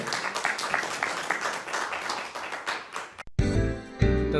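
A church congregation claps for God, a dense steady patter of many hands that runs for about three seconds before cutting into loud music.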